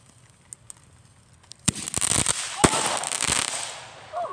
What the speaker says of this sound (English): That's our first firework right there.